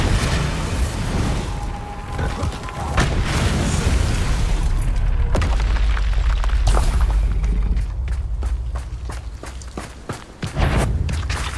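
Bombarda blast spells going off in Hogwarts Legacy, loud booming explosions with rumbling low end and scattered impacts and footsteps, repeated across a busy stretch of combat.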